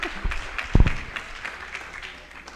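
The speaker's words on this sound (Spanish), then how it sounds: "Sí, un aplauso." Audience at a pro-life conference panel giving brief scattered applause, a few claps rising to a short burst and then thinning out, moderately faint in the room.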